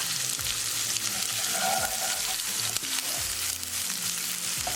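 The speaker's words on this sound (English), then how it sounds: "We're going to saute our onion until they are nicely translucent." Onion sautéing with garlic in a pan for a coconut milk mahi mahi curry, a close, continuous sizzle with spatula stirring and scraping, loud and steady with no speech.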